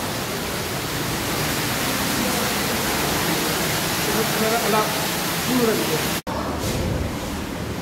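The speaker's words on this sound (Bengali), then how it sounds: "কৃত্রিম ঝর্ণা" Artificial fountain at an indoor fish-world attraction in Cox's Bazar, its water splashing as a steady, loud hiss throughout, briefly cut off once near the end before resuming.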